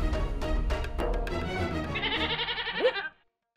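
A woman imitates a goat's bleat with a wavering, nasal vocal tremolo that grows brighter toward the end, loud and close, ending abruptly into silence.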